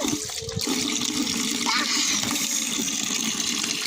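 Water gushes steadily from a tap into a bucket being filled for a bath, a continuous close rushing splash with a faint voice briefly heard near the start.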